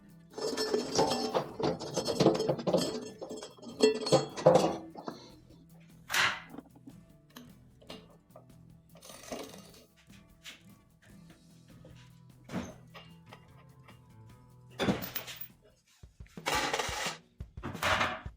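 A washing machine being taken apart to remove the drum pulley, with its leaky seal and badly jammed bearings: sharp metallic clanks, knocks and thwacks in irregular bursts, dense at first and then sparse with quiet gaps.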